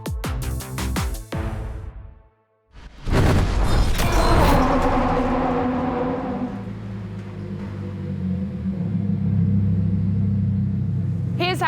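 A Lamborghini Huracán STO engine revs hard in a tunnel, bursting out, cutting briefly, then roaring back with a deep booming rumble that echoes and lingers.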